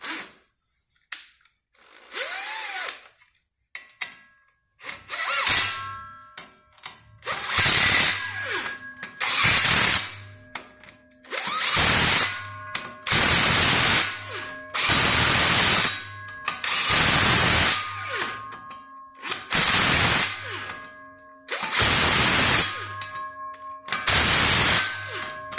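Repeated bursts from a Milwaukee impact wrench tightening bolts on a street truck, about ten loud, even hammering rattles of roughly a second each, separated by short pauses, close to the listener with no talking.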